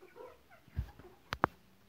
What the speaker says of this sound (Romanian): Ia uitați-l, este un cocoșel